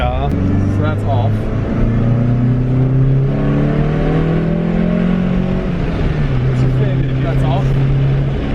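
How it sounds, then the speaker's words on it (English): A nitrous-equipped Toyota Starlet engine revs hard on a dyno, its loud, close drone climbing and wavering in pitch through repeated pulls, with a brief dip near the end. "So we're about to test the nitrous system in this car."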